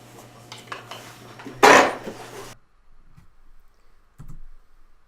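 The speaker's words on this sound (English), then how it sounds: "I'm just taking some auto body filler, mixing it up, and I'm putting it on a piece of plastic." Bondo auto body filler is mixed and worked on a piece of plastic, with light clicking and scraping, one loud harsh scrape, then near silence broken by a brief knock.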